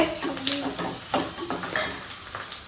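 Onion, fennel seeds, cumin and green chilli sauté in hot oil, a close crackling sizzle broken by several quick spatula scrapes against the pan.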